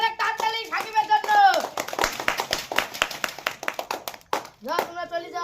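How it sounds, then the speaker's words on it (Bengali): Children in an audience clap together for the loser of a kids' game, a burst of quick, scattered claps that fades and then returns in a second short round, mixed with a voice. "সবাই ধরে একটা হাততালি সাকিবের জন্য।"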